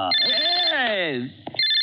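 A telephone rings with a loud electronic tone. A sweeping melodic voice passes through the middle of the ring, and then the tone returns.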